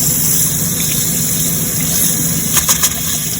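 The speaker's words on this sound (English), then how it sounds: "I'm going to fill that up with water." Water running steadily into a water heater tank during a DIY heating element replacement, a constant rushing hiss with a low hum underneath, a few brief clunks near the end.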